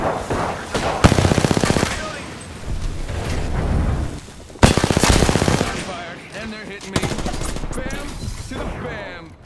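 Heavy automatic gunfire in Apex Legends comes in loud, close bursts of rapid shots, with short gaps and rumbling between the volleys.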